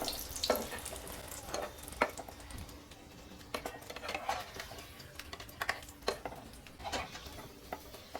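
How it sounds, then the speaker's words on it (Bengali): Potato kachori fry in hot oil over medium heat, a faint, steady sizzle broken by intermittent clinks and scrapes of a utensil against the pan. "প্রথমে তেলটা গরম করে নেবেন, তারপরে একটু মিডিয়াম আঁচে ভাজার চেষ্টা করবেন।"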